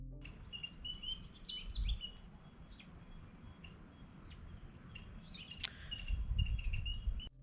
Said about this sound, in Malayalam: ജസ്റ്റ് നിങ്ങൾ ശ്രദ്ധിച്ചു നോക്കിയേ, ഇവിടെ കുറേ കിളികളുടെ ശബ്ദമുണ്ട്